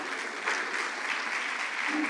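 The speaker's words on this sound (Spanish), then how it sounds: "Den un aplauso fuerte al Rey." Congregation applauding in a church, a steady wash of many hands clapping that stays loud and even from start to finish without a break.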